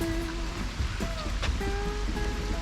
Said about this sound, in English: it's really raining now